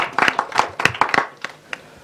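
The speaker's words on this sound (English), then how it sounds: "Round of applause." A small audience claps at a research conference panel, a brief scattered round of applause with distinct hand claps that thins out and fades within two seconds.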